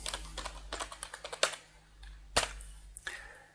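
Keystrokes on a computer keyboard typing a MySQL command: a quick run of close, light clicks followed by a few sharper, louder key presses, heard up close with no talking.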